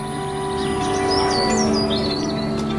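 Birds chirp and tweet in a cartoon farm village, quick rising whistled calls repeating over a steady bed of background music, bright and clear near the foreground.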